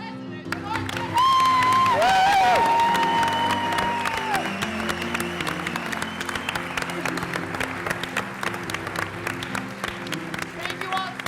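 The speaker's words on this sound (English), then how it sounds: "Can we do another huge round of applause for your president, Mark" Theater audience at a public policy improv show applauding and cheering their president, a thick continuous burst of clapping with whoops, under sustained musical tones and a sliding melodic line early on.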